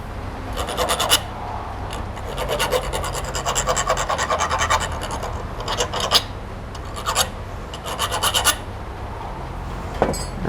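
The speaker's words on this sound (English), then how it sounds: "Grab the handy thread file." Quick strokes of a thread file cleaning the threads of a quick shifter bolt on a 2023 BMW S 1000 RR, heard as close rasping bursts in uneven groups with short pauses, no talking.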